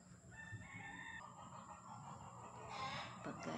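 A rooster crows and chickens cluck among the potted plants of a home garden. The calls are faint and distant, with a low steady background beneath them.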